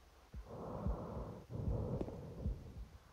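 Low, raspy breathing in Silent Hill 2, steady and close, with a wheezy, snorting texture and a few soft thumps underneath; nobody talks.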